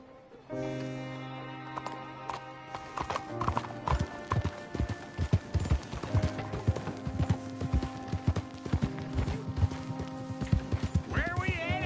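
Rhythmic hoofbeats of a horse clip-clopping at a steady pace in the video game Red Dead Redemption 2, with a sustained musical backdrop and occasional voices over the top.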